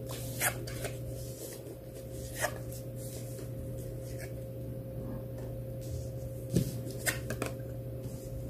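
A deck of cards is shuffled and drawn for a cross-shaped spread, soft riffling and flicking sounds with a few sharper snaps spread over several seconds against a steady low hum, quiet and close.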